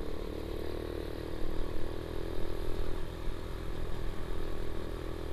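A Suzuki A100 motorcycle engine labours steadily up a dark uphill road in Sumatra, a continuous close mid-pitched drone with slight clatter and small surges in loudness, no voices.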